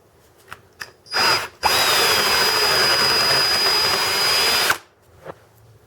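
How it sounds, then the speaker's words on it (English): A power drill spins up in a short burst, then runs steadily for about three seconds boring out a hole in a metal power steering bracket to 5/32 inch, a high whine over a harsh grinding rasp. "So, to get the maximum amount of flow, we're actually going to drill that out to 5/32."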